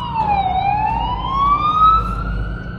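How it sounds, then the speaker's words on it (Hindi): A fire engine siren wails steadily through city traffic, loud and close, its tone sliding down and then rising slowly over a low rumble of engines, with no voices. "पुलिस नहीं फायर ब्रिगेड आ रही है।"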